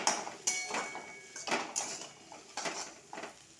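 A utensil scrapes and clanks in a pan while chowmein sauce is stirred with vinegar and soy sauce, giving several sharp metallic knocks spaced irregularly over quiet background.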